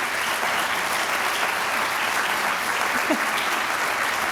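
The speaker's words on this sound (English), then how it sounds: "please to stand for a moment and give them a big round of applause" A seated audience at a Delta Omega induction ceremony gives sustained applause, a steady, even wash of many clapping hands that holds throughout without pause.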